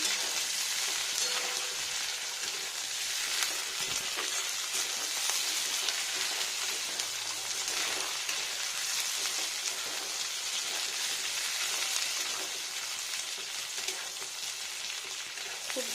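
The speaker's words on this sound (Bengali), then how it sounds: "হাই স্পিড মানে ফুল স্পিডে এটা ভেজে নিচ্ছি মুগ ডালটা আর বেগুনটা" Mung dal and eggplant fry over a high flame on a large stove burner, a dense, loud, unbroken sizzle and hiss held close and even for the whole stretch, with only faint stirring and no speech.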